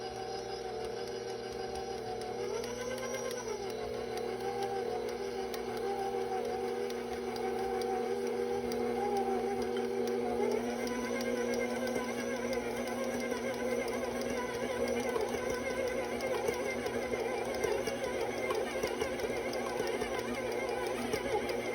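A stand mixer beats clove cookie dough, its electric motor holding a steady, droning whine with a mechanical ticking undertone, close and even, with a brief pitch wobble early on.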